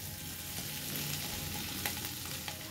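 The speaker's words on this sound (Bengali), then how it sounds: "আলুটাকে খুব ভালো করে ভেজে নিতে হবে।" Peeled potatoes fry in butter and garlic while being stirred, giving a steady close sizzle with a few sharp scrapes and clicks from the spoon against the pan and no voices.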